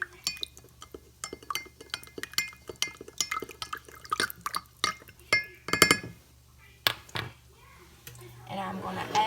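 A spoon stirs beef broth with cornstarch in a glass, giving a rapid series of sharp clinks and taps with faint liquid swishing, close and fairly clear.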